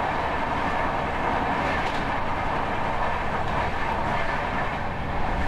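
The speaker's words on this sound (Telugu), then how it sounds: "నేనున్న ట్రైన్ ఎల్టీటీ కాకినాడ." Onboard rumble of the LTT–Kakinada express running on the rails, with a loud, steady roar and rattle of wheels and carriage that holds evenly throughout, with no speech.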